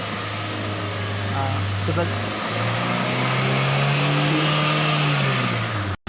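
A car engine is blipped during acceleration, its steady hum stepping up to a higher, louder pitch and holding there under a strong fan-like whoosh, recorded close in the engine bay.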